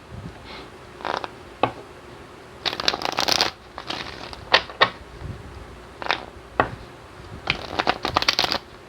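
A deck of tarot cards being shuffled, heard up close as repeated riffling bursts and soft slaps with brief gaps between them, with no voices.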